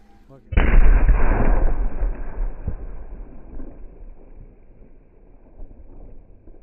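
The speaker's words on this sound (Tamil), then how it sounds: "பேப்பர் பாம் எப்படி பறக்குது தூள் பறக்குது பார்ப்போமா" A paper bomb firecracker at Diwali goes off in one sudden loud blast, then a long rumbling decay with scattered crackle trailing away.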